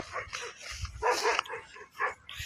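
Dogs on an island bark and yip in short, uneven bursts at close-to-moderate range, mixed with some whimpering and faint human voices.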